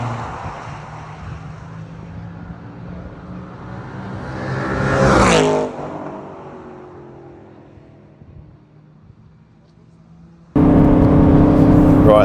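An Aston Martin Vantage S with a sports exhaust accelerates past, its engine note swelling to a loud peak, then fading. Road and wind noise remain, and a steady cabin drone cuts in abruptly near the end.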